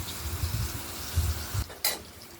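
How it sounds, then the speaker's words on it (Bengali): Prawns frying in hot oil in a pan: a soft, low sizzle with bursts of bubbling and stirring, then a sharp brief scrape near the end, all fairly quiet and close. "চিংড়ি মাছ তেলগুলোতে মধ্যেই ভেজে নেব"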